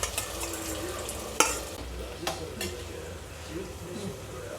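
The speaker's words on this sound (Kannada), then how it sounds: "ಈ ಮ್ಯಾರಿನೇಟ್ ಮಾಡ್ಕೊಂಡಿರೋ ತರಕಾರಿ ಹಾಕ್ಕೊಂಡು ಅರ್ಧ ಕುಕ್ ಆಗೋವರೆಗೂ ಕುಕ್ ಮಾಡಬೇಕು" Marinated vegetables for a veg biryani cook in oil in a pot, giving a continuous sizzle with a few sharp clanks of a spoon against metal as they are stirred.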